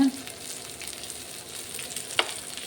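Masala-coated bangda mackerel shallow-fries in a pan with a small amount of oil, making a gentle, continuous sizzle broken by one brief scrape or tap.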